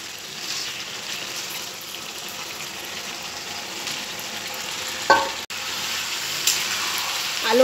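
Potatoes fry in hot oil in a kadai on a home stove, with a steady soft sizzle throughout and a couple of sharp utensil clanks partway through.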